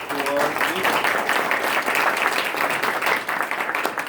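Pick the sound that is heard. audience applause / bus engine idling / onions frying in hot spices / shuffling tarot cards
audience applause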